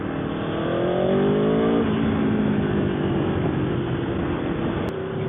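A 2016 Aprilia Tuono V4 1100 motorcycle's 1100 cc V4 engine drones steadily and loudly, pitch climbing as it revs then settling into a sustained hum, heard alone with rushing wind noise.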